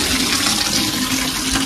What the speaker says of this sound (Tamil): இங்கே தண்ணி திறந்து விட்டாச்சு